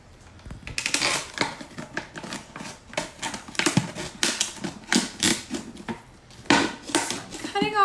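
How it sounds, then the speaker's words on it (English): Scissors snip through a plastic bottle to cut its top off, a string of crisp, close, irregular crunching cuts of varying loudness. "So I'm cutting off the top of my bottle."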